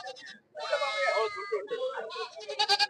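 Goat bleating at a busy goat market near Madurai: several loud, close, wavering bleats, one after another, with voices around.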